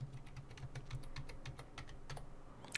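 Someone types an email address and password on a computer keyboard: quiet, close key clicks in an uneven rhythm with short pauses, over a low background hum.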